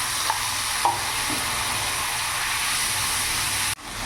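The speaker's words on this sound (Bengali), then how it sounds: "মশলাটা একটু ভাজা ভাজা করে নেব" Spice paste of onion, ginger, garlic and chilli fries in a pan with a steady, close sizzle and hiss, a few light stirring knocks, and a brief break near the end.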